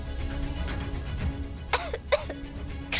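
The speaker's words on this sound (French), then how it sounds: "Pourquoi tu tousses autant?" A young man coughs and clears his throat several times in a domestic scene, with three sharp bursts toward the end over a low background hum.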